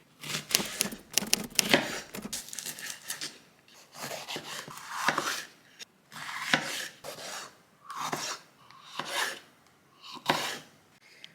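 Kitchen knife chopping peppers, onion and halloumi on a board, close, with rapid rhythmic cuts followed by slower spaced chops and scraping, no talk.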